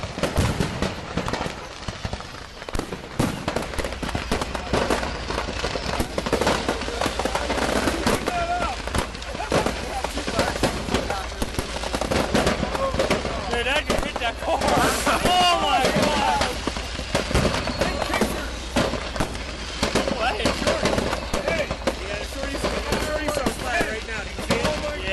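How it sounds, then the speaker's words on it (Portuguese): Leftover fireworks set off by a parking-lot fire crackle and pop in rapid, irregular bursts for a long stretch, dense and fairly loud, with voices mixed in among the bangs. "iluminadas por explosões esporádicas de cor e luz dos fogos de artifício restantes"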